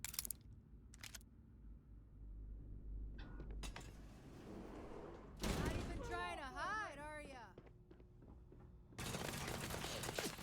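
Gunfire aimed at the player in the sci-fi video game Starfield: a few loud broadband bursts amid in-game ambience, with a voice-like warbling sound between them.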